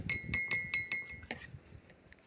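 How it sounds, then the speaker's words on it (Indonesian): An empty drinking glass struck repeatedly, about five crisp ringing clinks at a steady pace followed by a duller knock and faint scattered taps, heard up close over light background noise. "saya akan mengetuk masing-masing gelas"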